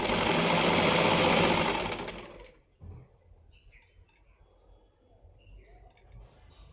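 A domestic sewing machine stitching the lining of a blouse runs loud and steady for about two seconds, then stops abruptly, leaving a quiet room with faint chirps.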